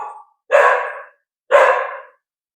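A dog barks loudly twice in sharp single bursts about a second apart, with the tail of an earlier bark at the very start.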